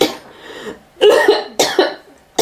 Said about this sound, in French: va chercher pourquoi tu tousses